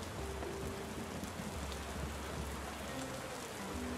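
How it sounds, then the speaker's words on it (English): Steady rain falls throughout in the video game Tavern Keeper, a dense hiss of drops with a low rumble beneath and a few soft musical tones drifting in the background. "Oh, listen to that rain."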